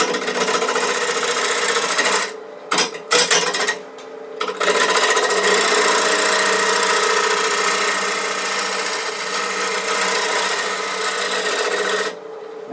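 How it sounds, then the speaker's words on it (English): A bowl gouge with a swept-back wing scrapes a spinning wooden shop-stool piece on a lathe, a dense continuous hiss and rasp broken by a few short pauses. "So I'm switching to a bowl gouge with a more swept back wing to make it a little easier to do a scrape if necessary."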